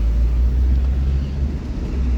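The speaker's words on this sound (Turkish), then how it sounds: "Şimdi rolanti motoru falan düzelince çalışırken ki şeysi de daha böyle düzgün oldu." A car engine, recently repaired, idles steadily with a smooth, continuous low rumble close by, no talk over it.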